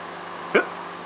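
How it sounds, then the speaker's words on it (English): A single short hiccup from a person performing hiccups on request, one quick voiced burst standing out clearly against a quiet background. "Show me the hiccups."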